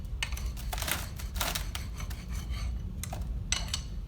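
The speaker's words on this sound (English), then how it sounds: "It's best to use that bevel as you're scraping the material off." A beveled straight edge scrapes excess material off the top of a mold, giving repeated close rasping strokes with short pauses between passes, no voices.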